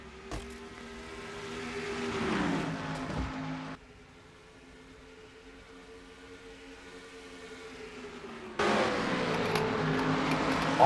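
Stock car engines from a racing video game drone at high revs, rising to a louder pass, then dropping to a quieter hum before another loud surge kicks in near the end.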